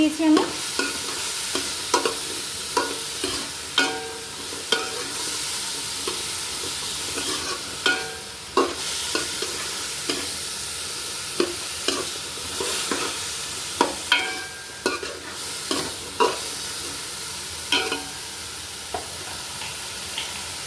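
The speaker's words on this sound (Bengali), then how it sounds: "এগুলো কিন্তু আমি ঘির মধ্যে ভেজে নিচ্ছি" Ingredients fry in ghee with a little sugar for Kabuli pulao, giving a steady close sizzle under repeated scraping strokes of a spoon stirring the pan.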